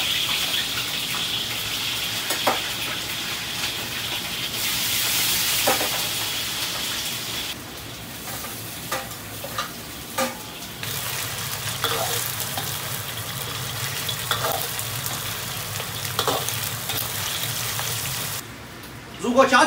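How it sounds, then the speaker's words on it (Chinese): Lamb ribs fry in a generous amount of oil in a wok, giving a loud, steady crackling sizzle like rain on a surface, broken by occasional clinks and stirring scrapes. "我们把羊排稍微煎一会儿"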